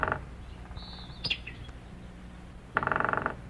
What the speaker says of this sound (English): the rapping of a woodpecker on a tree,